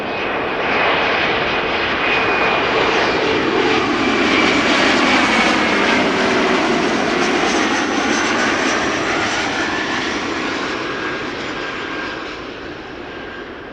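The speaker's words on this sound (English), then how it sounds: "Lufthansa arriving from Munich. Flight 2302. Mitsubishi CRJ 900 long range." A 13-year-old Lufthansa Mitsubishi CRJ 900 long-range jet arriving from Munich at Amsterdam Schiphol roars in loudly, swelling to a peak and fading as it passes, with no talk over it.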